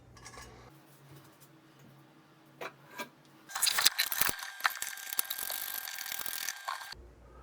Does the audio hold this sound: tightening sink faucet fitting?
yes